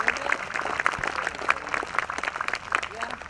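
An audience at an outdoor polka band set in Aurora, Ohio, claps steadily with scattered louder claps and a few whoops, a moderately distant crowd applause that runs throughout.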